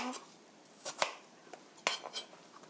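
A knife chops a pear into small cubes on a cutting board, giving a few sparse, sharp taps and clicks at close range with quiet pauses between cuts.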